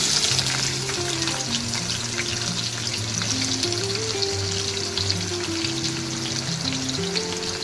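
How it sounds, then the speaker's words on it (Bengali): Onions frying in hot oil for biryani give a continuous, even sizzle that carries unbroken and moderately loud throughout, with a faint tonal hum in the background. "তেলটা গরম হোক, এর মধ্যে এবার আমি পেঁয়াজটা ছাড়ি।"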